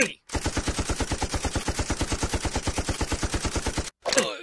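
Rapid automatic gunfire in an animated Spanish fandub: a long, steady burst of evenly spaced loud shots for about three and a half seconds, then a brief pause and a short noisy tail.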